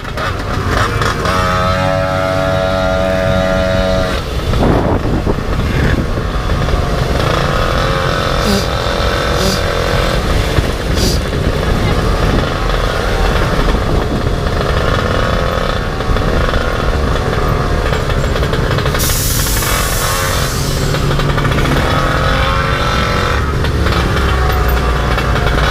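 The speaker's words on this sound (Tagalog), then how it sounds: "Scooter." Scooter engine running steadily nearby, a continuous buzzing motor drone with shifting revs over about twenty-five seconds, with some background noise and a brief hiss near the end.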